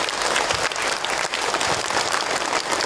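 An audience at a religious talk breaks into dense, loud applause, with close crowded clapping that stays strong for the whole three seconds.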